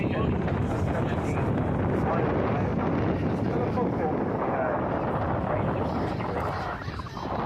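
A boat heads far out to sea near the Needles lighthouse, its steady engine and hull roar buried under continuous heavy wind buffeting the microphone, loud and unbroken throughout.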